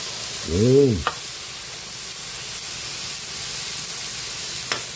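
Pork for batsoy frying in a pan with a steady, moderately loud sizzling hiss throughout, broken by a short voiced sound near the start and a couple of sharp clicks.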